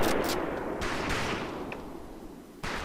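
Sniper rifle shots in the training level of the video game Medal of Honor: Pacific Assault, a few muffled, scattered reports over a steady noisy background, quiet and spaced apart.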